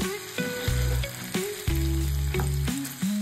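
Chicken fry sizzling in hot oil in a pan while being stirred, a dense close crackle broken by several spatula knocks and scrapes, with no voices.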